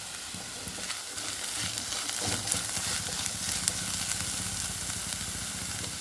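Chopped onion and ginger sauté in hot oil in a pan for an ivy gourd masala curry, a continuous close sizzle and crackle with occasional stirring scrapes, steady and alone without voices.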